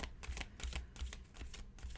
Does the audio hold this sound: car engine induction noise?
no